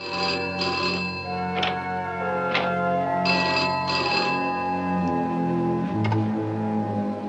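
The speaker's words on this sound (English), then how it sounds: "there's one scene where they get a phone call in the middle of the night" An old telephone bell rings in a night scene from the film Village of the Damned, repeated trilling rings over a sustained background music tone, with no talking.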